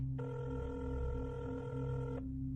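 A telephone ringing, one sustained electronic ring tone lasting about two seconds over a low steady background hum, clear and close.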